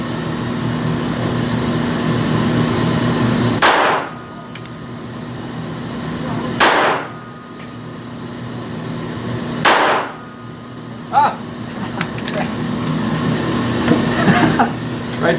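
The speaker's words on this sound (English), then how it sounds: "we're going to go ahead and take some shots here at 10 yards with it." Three sharp, loud pistol shots from a Beretta Tomcat 3032 .32 ACP fired at 10 yards, spaced about three seconds apart over a steady background hum, each with a brief decaying tail, followed by a fainter click.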